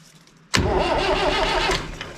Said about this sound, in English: so if we turn the engine over, we'll see the cables going round